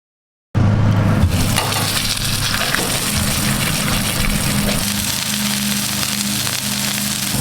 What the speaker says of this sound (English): So let's throw it on our already heated up Loco griddle.